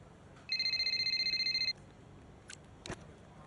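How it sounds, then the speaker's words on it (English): Phone rings in the racing game F1 Braking Point 3, a bright electronic trill lasting about a second, fairly loud over quiet background, followed by a couple of faint clicks. "We've got a phone call."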